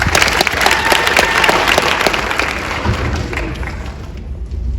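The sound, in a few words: audience applause at a high school football awards night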